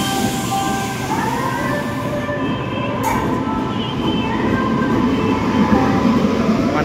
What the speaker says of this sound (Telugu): గుంటూరు ఔరంగాబాద్ ఇదైతే ట్రైన్, మనం ఎక్కే ట్రైన్ అయితే ఇదే